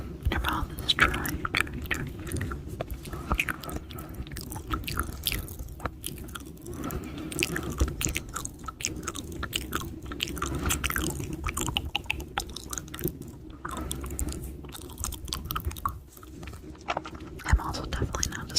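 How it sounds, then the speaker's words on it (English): Close, continuous ASMR mouth sounds made with a dry mouth: wet clicks, smacks and crunchy chewing-like noises fill the whole stretch, with soft breathy whisper-like textures mixed in. "mouth sounds usually sound better when your mouth is dry"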